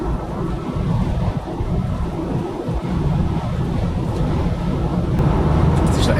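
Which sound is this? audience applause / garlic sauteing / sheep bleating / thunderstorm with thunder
thunderstorm with thunder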